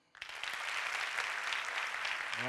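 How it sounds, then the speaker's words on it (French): Applause breaks out in a hall, starting abruptly and holding as a steady, dense clatter of many hands clapping at a moderate distance. "Applaudissez les étudiants dans la salle."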